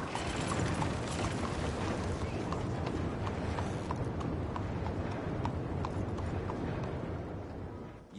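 Steady, rapid horse hoofbeats clatter continuously over a dense rumbling backdrop in the video game Red Dead Redemption 2, loud and close, fading slightly at the end.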